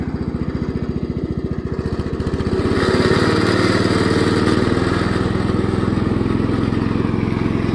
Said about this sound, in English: let me just see if I can get that mowing deck to turn on